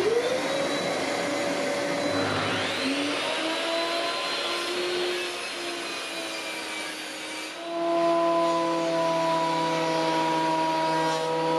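A shop vacuum runs continuously through a 3D-printed cyclonic dust separator in a workshop, a loud, steady whine whose pitch shifts and wavers as the airflow changes, with no talking.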